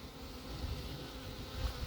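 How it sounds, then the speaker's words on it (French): Honeybees buzzing while a swarm is being captured, a dense continuous hum close to the listener with no talking. "l'abeille m'attaque"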